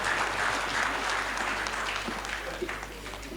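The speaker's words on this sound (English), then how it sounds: "Please, a round of applause for him." Applause from the audience at a party event presenting a certificate of return in Ekiti, a dense, steady wash of clapping that holds at a constant level and fades slightly near the end.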